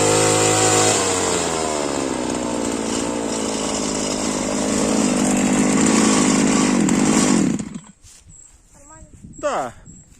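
A homemade mini tiller powered by a brush cutter engine, used for hauling firewood, runs loud and close with a buzzing two-stroke drone that rises in pitch, then cuts off and is followed by voices.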